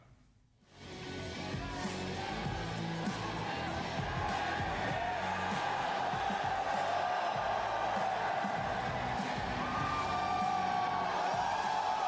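A large crowd at a CS2 Shanghai Major quarter-final watch party cheers and roars continuously, with scattered whoops and yells rising above a steady wall of noise.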